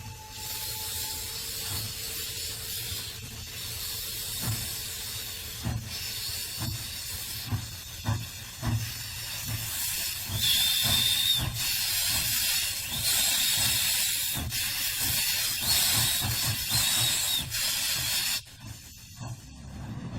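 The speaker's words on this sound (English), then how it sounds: "an SY locomotive erupts in near volcanic displays of superheated smoke and" A Chinese SY-class steam locomotive hisses loudly and continuously, with rhythmic chuffing and clanking beneath the steady roar of venting steam.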